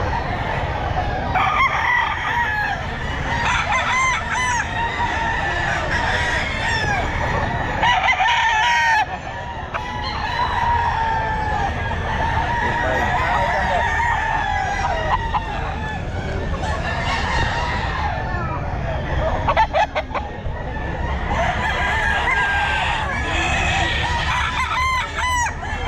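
Stag roosters crow repeatedly and cluck at a crowded Grotto pet market, their calls loud and close and overlapping, over a constant murmur of people talking nearby.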